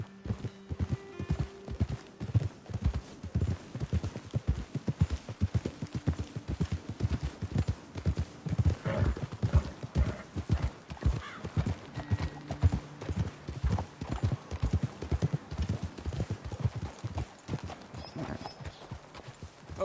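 Horses walking along a trail in the Red Dead Redemption 2 video game, with steady, close clip-clop hoofbeats in a regular rhythm and a brief whinny, and no talk over them.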